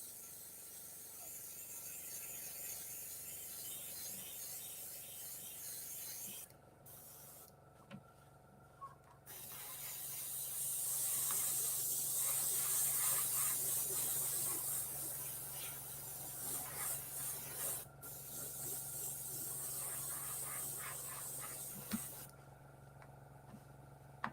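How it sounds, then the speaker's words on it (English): An Infinity airbrush sprays in a steady hiss over the continuous hum of its running compressor, with the spray swelling louder through the middle and pausing briefly a few times. "Compressor working that. Infinity, name of the airbrush."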